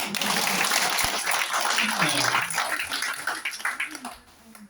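Audience applause at a Korean business talk, a thick wash of clapping from many people that holds steady and then tapers off toward the end, with some voices under it.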